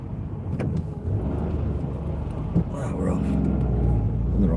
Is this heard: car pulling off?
yes